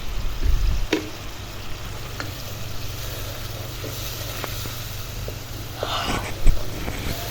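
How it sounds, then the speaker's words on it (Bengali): Fried onion sizzles in a pan after water and spices such as coriander powder, cumin powder, ginger and garlic go in, a steady soft hiss with a few faint clinks and stirring sounds, outdoors with light wind. "পেঁয়াজটা ভাজার পরে একটু পানি দিয়ে দিলাম।"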